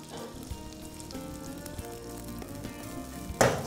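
Rice frying in a pan with garlic gives a steady close sizzle throughout, with a sharp clatter of ingredients hitting the pan near the end.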